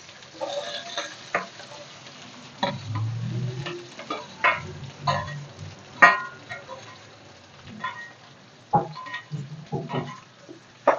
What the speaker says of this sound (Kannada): ಈರುಳ್ಳಿ ಚೆನ್ನಾಗಿ ಫ್ರೈ ಆಗಿ ಬ್ರೌನ್ ಕಲರ್ ಬರಲಿ